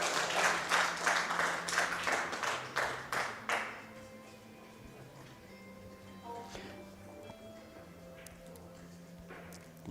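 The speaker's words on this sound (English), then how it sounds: "some junior support with the applause in the background." Applause from the audience at a women's pool championship semi-final in New Zealand, a loud burst of clapping over the first few seconds that fades to a quiet room with faint murmurs and occasional soft taps.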